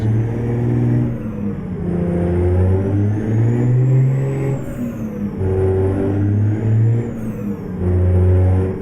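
A heavy truck engine in American Truck Simulator revs up and down repeatedly, loud and close, with gear changes and a faint high whine over the roar.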